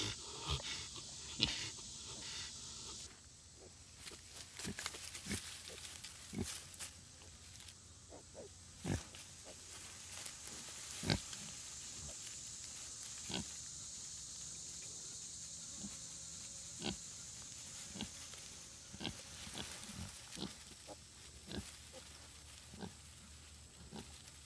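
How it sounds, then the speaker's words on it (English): Pigs on a farm grunting and snorting after being hosed down with water on a hot day, a run of close, fairly quiet grunts and pants over soft background noise. "Just sprayed the pigs off with the water hose and they are having a time."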